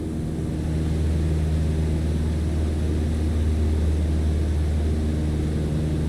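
A single-engine propeller plane in Microsoft Flight Simulator 2020, throttled back to 2,300 RPM in cruise, drones with a steady, loud, unbroken engine hum.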